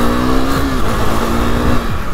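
A vehicle speeds up along the Boulevard in Kashmir during a Sunday ride, its engine note loud and close, rising in pitch, dropping and climbing again across the stretch, with a steady rush of wind and road noise throughout.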